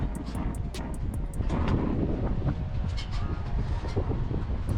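Low, rumbling gusts buffet the microphone continuously at a caravan park in West Beach, Australia, with faint high clicks and rattles scattered over the blustery roar.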